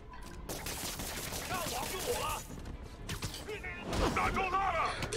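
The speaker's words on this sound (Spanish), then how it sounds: "Vamos a liarnos a tiros porque es que ya" Rapid bursts of gunfire in Marvel's Spider-Man, crackling volleys and sharp shots, with a person's voice talking over the action.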